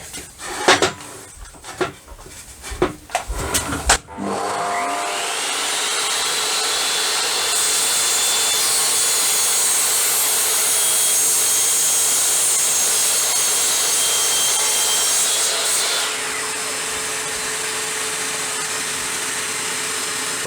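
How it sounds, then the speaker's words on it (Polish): An Evolution R15VAC corded suitcase vacuum with a socket for power tools runs steadily and loudly after a few seconds of clattering fitting noises. It holds a constant whine for about eleven seconds, then winds down and goes quiet. "Czekamy aż zgaśnie odkurzacz."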